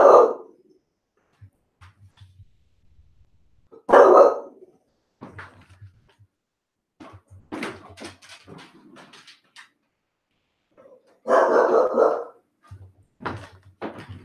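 A dog barks in a few loud, separate bursts spaced several seconds apart, close by in a quiet room, with faint thumps and small noises between the barks.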